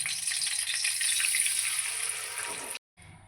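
A paste of ginger, green chilli and tomato fries in hot oil for a koi fish curry, giving a loud, steady sizzle that cuts off abruptly near the end, then briefly resumes.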